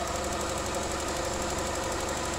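A 1994 Mitsubishi Chariot's 2-liter single overhead cam 4G63 engine runs with a steady, close, even mechanical drone and a faint rhythmic ticking, with no voices over it.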